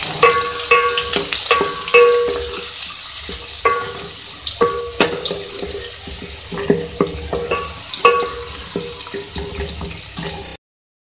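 Whole spices (bay leaves, cinnamon, cloves, black cardamom) sizzling and crackling in hot oil with a steady hiss, punctuated by clinks and scrapes of a spoon stirring the pan.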